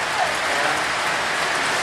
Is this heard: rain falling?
yes